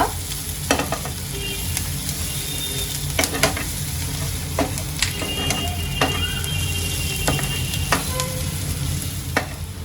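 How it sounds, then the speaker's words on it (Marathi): Onions and garlic frying in a pan for a dry tendli (ivy gourd) sabzi, a continuous close sizzle with intermittent spoon scrapes and clicks, no talk. "आता कांद्याला चांगला मी फ्राय करून घेते दोन मिनटापर्यंत"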